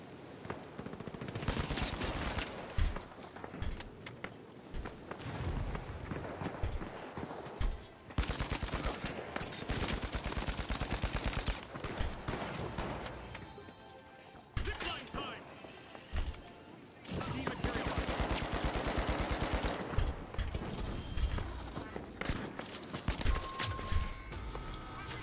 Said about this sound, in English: I'm getting sniped at.